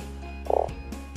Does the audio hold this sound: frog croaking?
yes